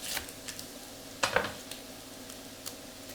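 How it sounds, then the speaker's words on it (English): A knife chops an onion on a cutting board in faint, irregular taps, with one brief louder clatter midway in a quiet kitchen. "do your incisions down the centre and then chop, using your bridge"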